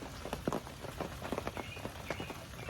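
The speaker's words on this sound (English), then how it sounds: "Well, here's that light rain." Light rain patters steadily on outdoor surfaces, with soft scattered drops at close range and faint birdsong from robins threaded through it.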